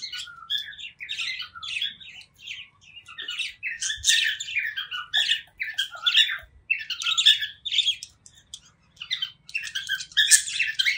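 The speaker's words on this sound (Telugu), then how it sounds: "బర్డ్ సౌండ్స్ అవి చూసారా" Many birds squawking and chirping in a bird shed at a nature-cure ashram, a busy chorus of shrill, overlapping calls in quick bursts, fairly close and steady throughout.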